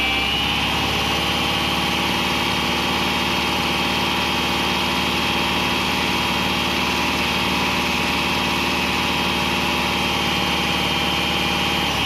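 A car fitted with a DIY lithium LiFePO4 battery idles while its alternator charges at about 32 amps, producing a constant, loud engine drone with a low hum and no change throughout.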